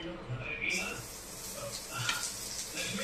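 Vegetables sauté in a pan over medium gas, with a soft, steady sizzle and occasional stirring clinks while someone talks over the cooking.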